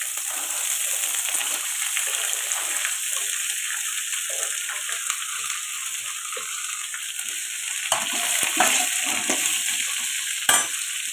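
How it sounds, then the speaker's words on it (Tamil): Chopped carrots and beans tipped into a hot pan with browned chana dal, giving a steady, close sizzle and frying hiss with some stirring scrapes, no voices over it. "இப்போ இந்த ஸ்டேஜில் நம்ம இந்த அரிஞ்சு வச்சுருக்கிற கேரட்டும் பீன்ஸையும் கொட்டணும்"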